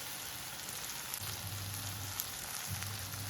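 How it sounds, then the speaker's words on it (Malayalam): Garam masala, cumin and chilli powder fry in hot oil for kadala curry, giving a steady close sizzle with a soft low stirring scrape partway through. "നന്നായി ഒന്ന് ഫ്രൈ ചെയ്യുക."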